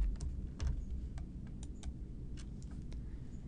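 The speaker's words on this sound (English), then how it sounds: "I could use the scroll bar to find efficiency programs or simply begin typing it in" Irregular clicking of keys on a computer keyboard, a quiet scattered patter of taps over a low background rumble, with no voices.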